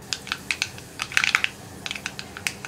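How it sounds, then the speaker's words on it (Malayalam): Mustard seeds spluttering in hot coconut oil: a string of sharp, crackling pops, some close together in quick bursts, loud against a quiet background with no talking. "ഇപ്പോൾ നമ്മുടെ കടുക് പൊട്ടിക്കൊണ്ടിരിക്കുന്നുണ്ട്."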